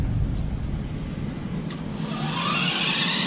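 The electric motor of a vintage Tamiya Wild Willy RC car whirs up gently under throttle, a faint rising whine over a low hum.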